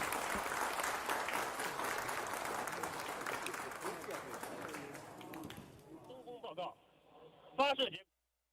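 Applause from an audience at the Shenzhou-17 crewed spacecraft launch in China, dense and sustained clapping that thins out toward the end, followed by a brief burst of voices.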